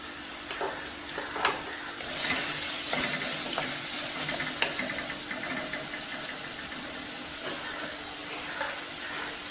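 Tomatoes sizzle and fry in a pan for prawn masala curry while a spoon stirs them, giving a steady crackling hiss with occasional scraping knocks against the pan.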